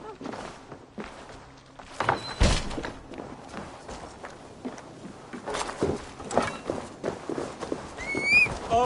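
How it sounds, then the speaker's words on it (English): Horse hooves galloping in Assassin's Creed Valhalla, a rapid drumming of thuds and clip-clops under game music and ambient effects, with a few louder impacts. "Basim, Eivor, To horse!"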